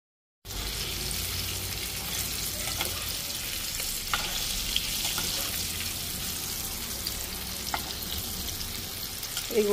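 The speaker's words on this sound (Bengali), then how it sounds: "এগুলো গোল্ডেন ব্রাউন হওয়া পর্যন্ত আমি মিডিয়াম আঁচে আস্তে আস্তে ভাজা নেব।" Chicken popcorn frying in oil over medium heat gives an even, close bubbling sizzle that runs without a break, dotted with small pops and crackles.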